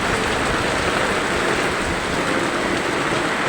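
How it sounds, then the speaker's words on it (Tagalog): Heavy rain pours down outside amid flooding, a dense, continuous hiss of water that stays steady and loud throughout with no voices. "Grabe, lakas ng ulan."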